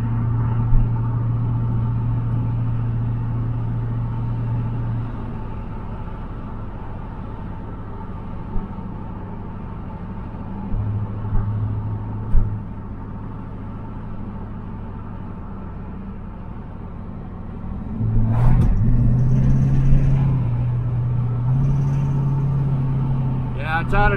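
A 1985 Camaro IROC-Z rolling along a rough road, its engine and tyre rumble a steady low drone throughout, with a brief clatter of bumps near the end and voices talking over it at times.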